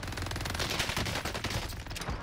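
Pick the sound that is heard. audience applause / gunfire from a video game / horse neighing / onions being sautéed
gunfire from a video game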